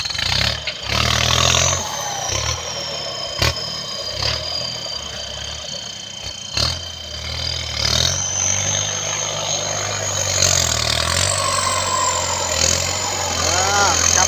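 A Kubota M7508 turbo tractor engine runs steadily outdoors while felling trees, a loud, constant drone with revving swells and some clanking, and someone talks over it throughout.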